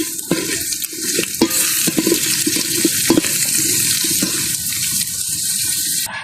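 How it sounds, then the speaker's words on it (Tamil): Onions and green chillies sautéing in a pan for a spicy chicken soup, with a steady broadband sizzle and repeated scraping stirs of a spoon against the pan, close and continuous with no talk. "அங்கால வெங்காயம் பச்சை மிளகாயெல்லாம் வதங்கி கொண்டிருக்கு"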